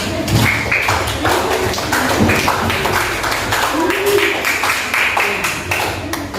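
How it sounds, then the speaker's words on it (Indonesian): A class of schoolchildren applauds in a classroom, a dense, steady patter of many hands clapping close by, mixed with children's voices throughout. "tepuk tangan untuk semangatnya"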